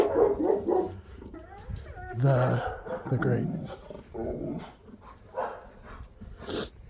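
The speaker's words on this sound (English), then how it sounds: "you're going to hear the dog all day, all during the video" A dog barks and yips intermittently in the background of an Arizona backyard raised-bed garden, the bursts faint to moderate and partly masked by someone talking close by.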